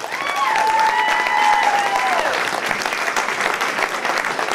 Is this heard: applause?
yes